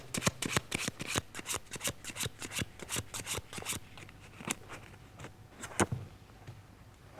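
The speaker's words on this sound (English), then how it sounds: "you pick up the deck, you run through, you take out the one card you feel is right" A deck of playing cards is handled and run through close by: a rapid series of crisp riffling snaps and flicks that thins into scattered slower card clicks, quiet and unaccompanied by talk.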